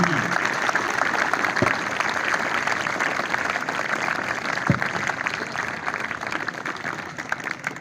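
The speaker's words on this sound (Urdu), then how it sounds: "جناب سر عبدالرزاق صاحب، بھرپور تالیاں." An audience of students claps steadily for a retiring school teacher at a farewell assembly, moderately loud, even applause throughout, with a couple of sharp thumps on the microphone partway through.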